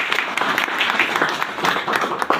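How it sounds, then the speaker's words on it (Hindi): Audience applause at a public talk about India's problems, a steady crowd clapping texture through the short stretch, fairly dense and continuous with some louder individual claps. "तो ताली होनी चाहिए।"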